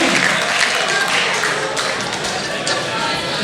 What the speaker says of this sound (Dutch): ik denk dat we ook onze jury natuurlijk een fantastisch applaus mogen geven